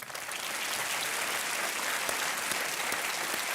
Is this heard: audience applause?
yes